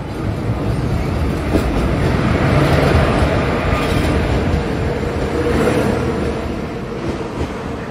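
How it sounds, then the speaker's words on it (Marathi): A Konkan Railway train rolls in at Kudal station at night, a loud, continuous rumble of wheels and carriages with a steady low roar that swells slightly as it passes close by, no voices over it. "फायनली आपली ट्रेन आलेली आहे."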